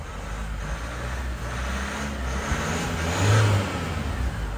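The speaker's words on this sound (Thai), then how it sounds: "ดูฟังเสียงเครื่องยนต์" A 2020 Isuzu D-Max 1.9 pickup engine, stock and unremapped with 61,000 km, idles and revs steadily up close, the roar swelling briefly near the end.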